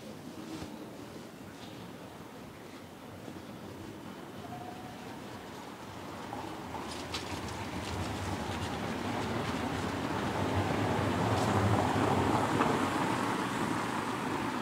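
A tram ride in Amsterdam, with a continuous low rumble and wheel noise that slowly swells louder, broken by faint metallic squeals and clicks.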